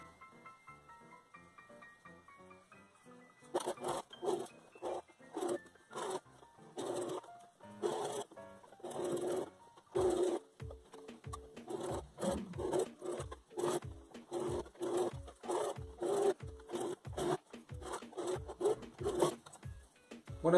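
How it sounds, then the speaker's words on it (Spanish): A sewing machine runs a straight stitch along a hoodie hem, starting with faint rattling and then settling into quick rhythmic mechanical thumps in short runs, fairly quiet and with no speech. "Después formamos nuevamente el doblez y lo vamos a coser con puntada recta."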